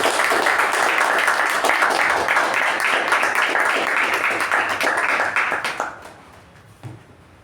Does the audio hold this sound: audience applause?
yes